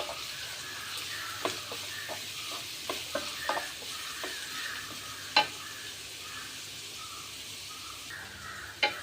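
Carrots and beans sauté in a pan with a soft, steady sizzle, while a spatula scrapes and taps the pan now and then with sharp clicks. The sound is close and fairly quiet, and no one speaks.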